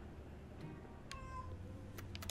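Cat meowing in the video game Broken Age, a few short, faint mews over a steady game background hum.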